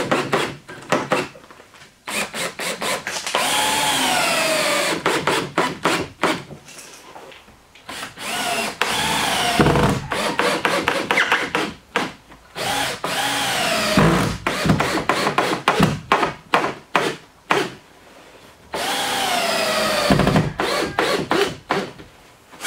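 A power drill driving long 4-inch screws through strapping over insulation, repeated loud bursts of motor whine broken by short stops and restarts, close up with no talking.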